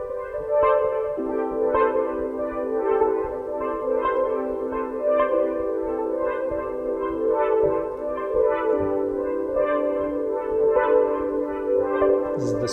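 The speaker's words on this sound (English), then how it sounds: "This is the song of the guava." Tonal music generated from a guava fruit wired to electrodes, a steady layered synth-like drone with gently shifting pitches and soft pulsing, moderately loud and continuous with no talking.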